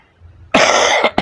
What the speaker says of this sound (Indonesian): Terus ini maaf sih agak batuk-batuk Mas.